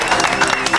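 Studio audience applauding on a Taiwanese cooking variety show, a dense burst of clapping and crowd noise filling the whole moment at steady loudness.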